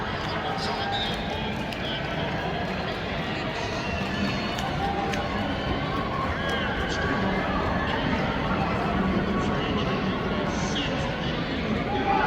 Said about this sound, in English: The roar of the crowd was a little not as loud as before.